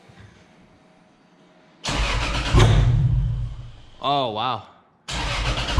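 A car engine fires up and revs through a custom 2JZ-style exhaust, a loud, close burst that settles, then two quick rising revs and another blast, with people talking and exclaiming around it.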